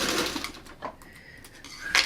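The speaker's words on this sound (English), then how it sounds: "So that's sewn together" A sewing machine stitches fabric together in a steady, close, whirring run that rises and falls slightly.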